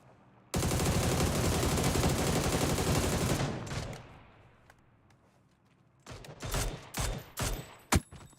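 Rapid sustained gunfire in a competitive shooter game, a dense loud burst lasting about three seconds that tails off, followed after a pause by several sharp separate shots.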